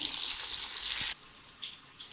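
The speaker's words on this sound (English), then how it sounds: "add the florets to the hot oil and fry them till they are golden brown" Cauliflower florets dusted in cornflour fry in hot oil, a soft, steady hiss of bubbling that drops to a quieter crackle midway, faint and without talk.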